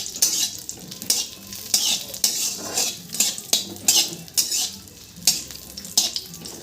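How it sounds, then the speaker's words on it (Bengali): Cashew nuts are fried in ghee in a pan with a spoon stirring them, giving about a dozen rhythmic scraping strokes over a soft, continuous sizzle, close up and with no talking. "নেক্সট কাজু বাদাম, এগুলিকে একটু ফ্রাই করে নেব।"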